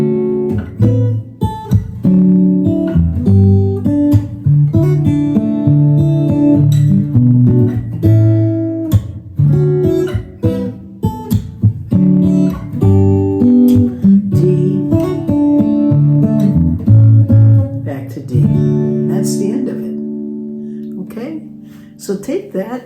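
Martin SC-13e acoustic guitar played fingerstyle on a DMaj7 chord: plucked notes ring out in arpeggiated patterns with overlapping sustain, close and clear, fading toward the end, with no speech.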